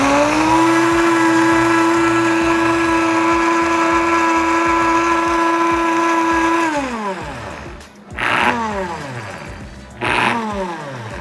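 A blender or food processor whirs loudly and steadily while mixing sugar and molasses into brown sugar, then winds down with a falling pitch and gives two short restarting bursts.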